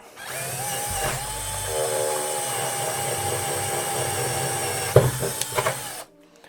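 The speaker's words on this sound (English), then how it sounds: "I guess we're just gonna drill a hole in the desk" A power drill whirs steadily as it bores into a desk, then a few sharp clunks follow before the sound cuts off.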